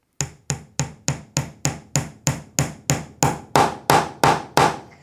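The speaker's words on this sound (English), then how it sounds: "I'm going to lightly tap it with the hammer until it's fully set into the hole." A hammer taps a wooden dowel into a hole about fifteen times in a steady rhythm, each knock growing louder and fuller toward the end as it seats fully.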